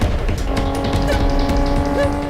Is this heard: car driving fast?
yes